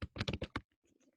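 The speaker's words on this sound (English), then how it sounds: "So I'm going to type in that." Typing on a computer keyboard, a quick close burst of about six sharp key clicks followed by a few fainter taps.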